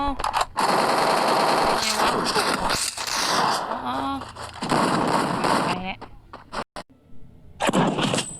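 Rapid bursts of automatic gunfire from an MP5 submachine gun in a video game crackle in loud stretches, separated by short pauses, with a voice talking over some of it.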